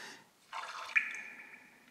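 A sea-themed water effect from an LG G Flex smartphone lock screen, a soft splashing wave that swells then trails off with a gentle dripping shimmer, close and quiet.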